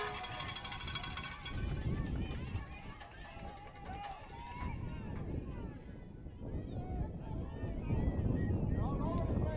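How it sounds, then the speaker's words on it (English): Wind at an outdoor softball park during a varsity regional final buffets the microphones with a steady, roaring rumble, while a commentator talks throughout. "We are in the midst of the wind out here."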